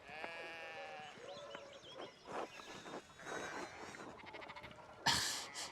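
Sheep bleat in the medieval video game Pentiment, several wavering bleats over a soft farmyard background, fairly quiet and without talk.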